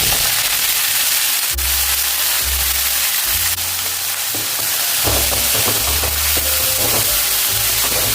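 Fenugreek (methi) leaves frying in a small amount of hot oil for a methi paneer biryani give a steady, loud sizzle and hiss, with occasional stirring and scraping throughout and no talking.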